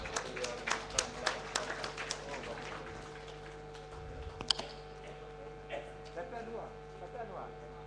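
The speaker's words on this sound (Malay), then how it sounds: "Tepukan." Scattered applause from an audience at a formal gathering honoring Penang's Chief Minister, rhythmic claps over a steady mains hum, tapering off as a voice speaks.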